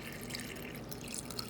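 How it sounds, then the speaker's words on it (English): Water trickles and drips into a bowl of leaves, a faint, close, bubbling pour with small splashes, quiet and steady over a brief moment. "now we're just going to add water"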